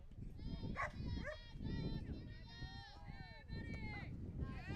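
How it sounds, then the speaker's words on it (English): A Corgi barks in short, repeated bursts somewhere behind at a youth softball championship game, while people talk continuously in the foreground over it. "That dog you hear in the background"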